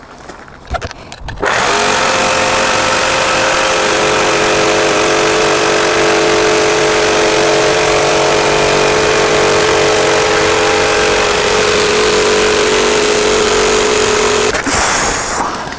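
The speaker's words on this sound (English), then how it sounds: "I thought I'd start again with a jigsaw" A jigsaw cuts through a reclaimed scaffold board, starting with a few knocks before a loud, steady motor whine with a rasping blade runs continuously for about thirteen seconds, then stops abruptly.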